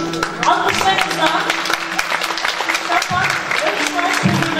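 A concert audience claps for a provincial culture and tourism choir performance, a dense burst of applause with a voice speaking over it and a sustained tone in the background.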